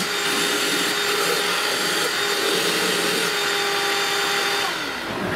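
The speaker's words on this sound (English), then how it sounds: "Take that vacuum and pull a little bit of that out of here." Steady broadband roar of a vacuum cleaner running up close in the engine bay of a 2007 Chrysler Pacifica, with a whining tone, continuous for several seconds and easing slightly at the end.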